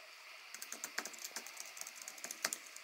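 Quiet, rapid keystrokes on an Apple wireless keyboard tap out in an even, close stream with no talking.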